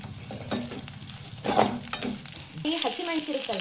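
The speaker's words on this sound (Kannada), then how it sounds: "ನಾನಿಲ್ಲೊಂದು 4 ಹಸಿಮೆಣಸು ಹಾಕ್ಕೊಂಡು ಅದನ್ನು ಕೂಡ ಹಾಗೆ ಬಾಡಿಸ್ಕೊಳ್ತೀನಿ" Green chillies, ginger and garlic frying in a pan for pulao, close sizzling with scraping stirring strokes, the fry growing busier toward the end.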